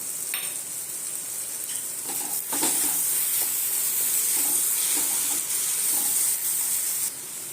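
Onion, tomato and ginger-garlic paste fry steadily in a pan for a paneer tomato curry, a close, continuous sizzle with a few soft stirring scrapes and no talking.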